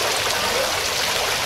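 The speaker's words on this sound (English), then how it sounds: "Your own little custom waterfall right there." Water pours from a custom waterfall built into a pool bridge, a loud continuous splashing rush that stays close and steady throughout the short stretch.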